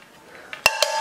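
Two wok pans bought on sale are handled, giving a couple of sharp metallic clanks close by, the second ringing briefly.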